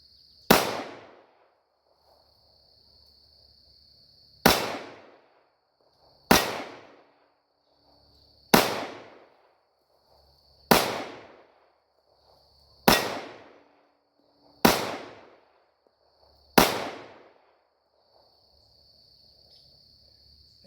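Eight separate shots from a Tisas Tanker .45 ACP pistol, each a loud sharp crack with a short decaying tail, spaced about two seconds apart at an outdoor range, with faint insect chirping between them.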